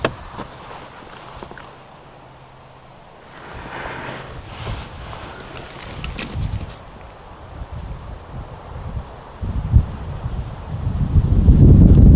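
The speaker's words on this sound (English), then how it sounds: "There's that strong wind again." Strong wind gusts across an open safari landscape, roaring and buffeting against the microphone, building from a low rush to a loud, rumbling surge toward the end with no voices.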